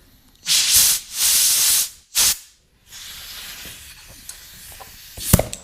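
An air compressor nozzle blows leftover debris and acetone out of a skateboard-style bearing in sharp hissing blasts, two long and one short, followed by quieter air noise and small clicks.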